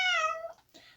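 Female pet cat giving a loud, drawn-out meow, close to the microphone, followed by a shorter second cry after a brief pause.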